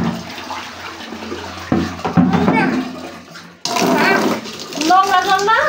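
Dirty water is tipped out onto a bathroom floor in a rushing, splashing stream that stops and then starts again, while an adult talks over it.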